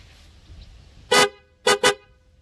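A newly installed PIAA OTO-style car horn honks three times close by: one longer blast, then two short toots in quick succession.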